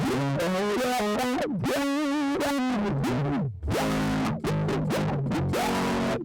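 An electric guitar plays through a Raspberry Pi effects pedalboard's shimmering, warbling chorus effect, sustained notes sliding and bending continuously, loud and alone without talking.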